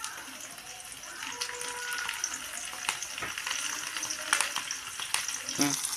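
Coriander, curry leaves and fenugreek hit hot oil in a tempering pan, giving a continuous crackling sizzle with sharp pops and spatters that grow busier toward the end, close and moderately loud.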